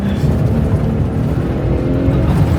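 A Ford F-150 Raptor drives along off-road trails, its engine a loud, steady rumble heard close up from inside or near the truck, with a continuous low drone and no talking.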